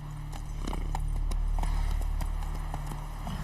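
Hooves of a ridden horse clip-clop in a quick, even rhythm of sharp, close knocks over a steady low hum, continuing throughout without speech.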